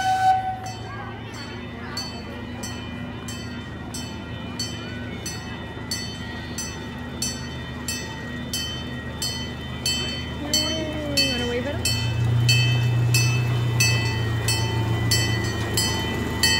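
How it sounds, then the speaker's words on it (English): A theme park train passes with rhythmic clicking wheels and rumbling, a horn or whistle sounding partway, while people talk nearby. "let's watch the train."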